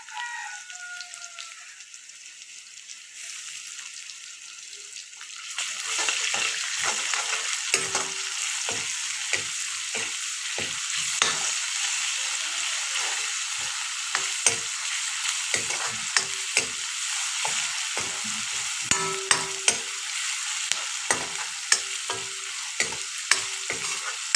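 Garlic and ginger sizzle and spit in hot oil for a tangy Assamese fish curry, crackling steadily after a quieter start, with scattered sharp pops and stirring scrapes throughout.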